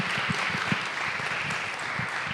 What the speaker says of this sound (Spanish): un aplauso para todas y todos que nos lo merecemos acá